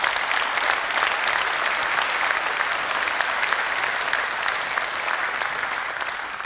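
An audience at a political speech applauds steadily, a broad wash of clapping that holds evenly and fades slightly toward the end.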